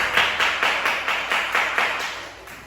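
Classroom children clapping in unison, about ten evenly spaced, crisp claps in a steady rhythm, close and moderately loud.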